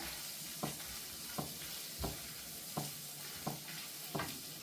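Spring onion whites frying in a pan for Kung Pao chicken, a soft steady sizzle broken by six regular scrapes of a spatula at about one-second intervals, close and fairly quiet with no talking.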